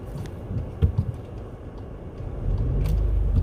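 A Volkswagen Polo with a manual gearbox drives along in a snowy storm, its low interior rumble steady with a few soft thumps and swelling slightly near the end.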